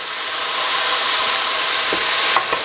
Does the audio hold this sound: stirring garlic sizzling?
yes